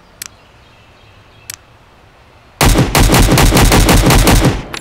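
A Galil rifle fires in the survival game Road to Vostok: two lone, distant-sounding clicks, then a loud, sustained rapid-fire burst of closely spaced shots that cuts off abruptly.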